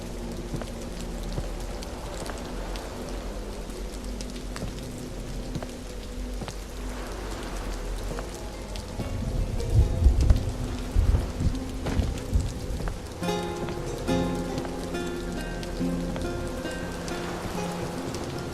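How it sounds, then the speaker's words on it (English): Steady rain falls over a boat in the horror game The Mound: Omen of Cthulhu, with a low ambient drone, musical tones and a louder rumbling swell midway. No one speaks. "Wouldn't want to be in the rain."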